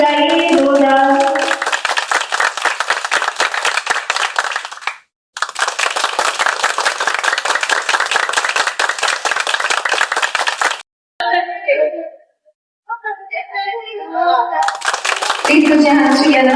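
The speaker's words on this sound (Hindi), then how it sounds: "सभी प्लीज तालियां बजाइए।" Audience at an award ceremony in Delhi breaks into loud, sustained applause, dense clapping that halts briefly, resumes, thins to a few scattered claps near the end, then swells again.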